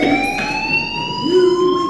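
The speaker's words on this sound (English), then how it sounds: "do you hear that fire alarm?" A fire alarm rings inside the Life Is Strange video game, a steady electronic tone with a pulsing harmonic warble, loud and continuous throughout with no voices over it.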